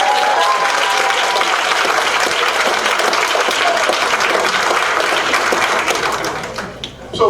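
An audience at a school district board meeting breaks into steady, dense applause for an honored student, many hands clapping together at full strength before tapering off near the end.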